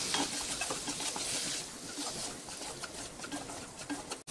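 Chopped boiled potatoes and spices are stirred in a hot pan for spicy aloo masala chaat, giving steady scraping, clattering strokes over a soft sizzle with no voices.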